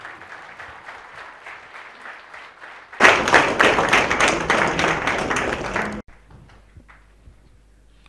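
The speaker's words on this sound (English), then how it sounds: "Round of applause for the Khadar sir." An audience at a talk on millets and health breaks into applause. A faint patter is followed by a louder burst of clapping that lasts a few seconds and then stops abruptly.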